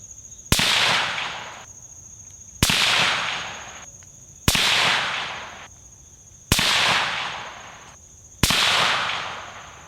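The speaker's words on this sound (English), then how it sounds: "threw the suppressor back on, fired another 5-round group" Five evenly spaced rifle shots fired through a Surefire SOCOM Mini II suppressor, each a sharp loud crack followed by a decaying tail, about two seconds apart, with no talking.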